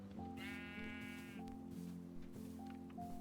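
Sheep bleating in the video game Minecraft, a couple of wavering, nasal calls rising over a steady tonal game background, fairly quiet and heard without talk.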